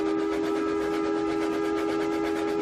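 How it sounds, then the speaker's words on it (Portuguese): A steam train whistle sounds in one long, steady, shrill blast, held continuously throughout and fairly loud, with no other sounds standing out. "E o apito de um terceiro trem iluminado soou."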